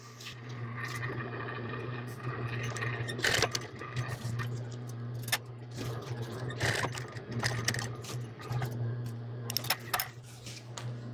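A sewing machine back stitching ribbon onto a women's apron, a close, steady mechanical whir with rapid ticking needle strokes and brief pauses, no talking.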